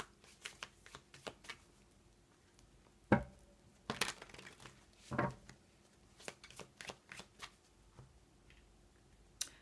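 Oracle cards being shuffled by hand, a quiet run of soft riffling and papery slaps with a few sharper snaps, close and alone.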